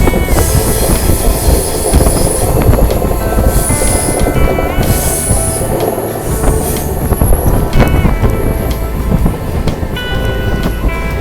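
Kanchankanya Express (13149) running through hill country near Sevoke, a loud steady rumble of wheels and carriage noise with faint tonal squeals and clatter, continuous throughout.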